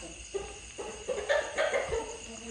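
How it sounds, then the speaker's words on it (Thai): Chickens cluck in short scattered bursts, a few birds calling fairly close with brief pauses between them. "ไก่มันตื่นแล้วมันก็ตื่นด้วยกันหมด"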